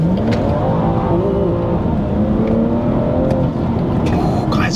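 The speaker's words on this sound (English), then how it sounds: "we're out for our first drive with the B58 MST air intake" BMW M240i with a B58 engine and MST air intake accelerating on a drive, a loud, sustained engine roar with rising and falling rev sweeps through the gears, heard from inside the car.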